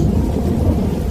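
A rain and thunder storm gives a loud, steady low rumble with a dense wash of rainfall, constant throughout and without any voices.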